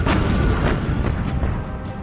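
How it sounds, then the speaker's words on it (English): Heavy naval gunfire roars in a dense, continuous barrage of booming blasts during a sea battle, loud and rumbling throughout with no pause. "Amid the heavy gunfire, torpedo attacks, and the hundreds of planes harassing them, Admiral Kurita and his commanders are bewil"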